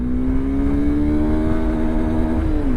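A Honda CB200X motorcycle pulls away in first gear. The engine holds a steady, rising mid-pitched drone that dips briefly near the end, as if shifting, with no talk.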